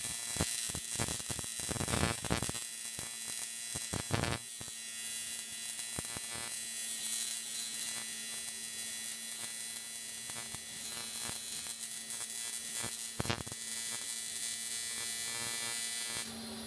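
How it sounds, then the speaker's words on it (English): Welder tack welding on a Mk1 Volkswagen Golf, giving a steady electric buzzing crackle that runs nearly the whole time, with sharper sputtering bursts near the start and no talk. "But I get a wee bit carried away with welding."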